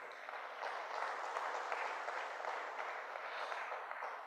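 Audience applause after a speech at a plenary session of the African Internet Governance Forum, a steady dense wash of clapping from a large crowd that holds an even level for the whole stretch, with no voices over it.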